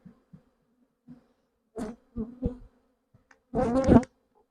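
Honeybees buzz in short bursts while being handled at an open hive during colony formation, close to the ear, with a louder sustained hum near the end.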